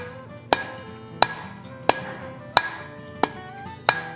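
Steel snake tail being drawn out with a forging hammer on an anvil: six sharp, ringing blows struck at a steady, unhurried rhythm, close and loud over a low background hum.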